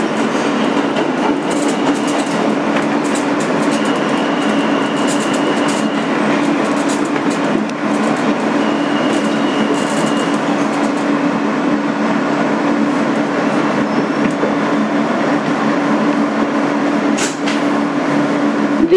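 A 2008 Kawasaki R160B subway car on an N local train on the BMT Sea Beach line runs along the track. It makes a loud, continuous rumble with rattling and clicking wheel noise throughout, close by and with no voices.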